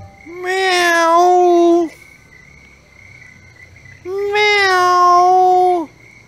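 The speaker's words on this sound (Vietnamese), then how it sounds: "mèo, mèo." A cat gives two long, drawn-out meows a couple of seconds apart, loud and close, in a domestic scene from a Vietnamese family drama.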